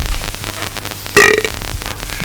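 A loud, close burp rolls out over a radio broadcast's background hiss and music bed, one drawn-out belch lasting about a second with no talking.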